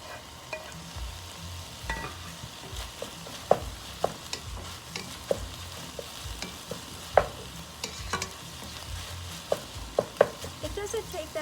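Garlic frying with cooked-down onions in a pan, a steady sizzle under frequent clicking stirs and scrapes of a spoon, irregular and close.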